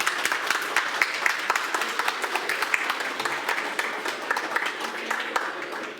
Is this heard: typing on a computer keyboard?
no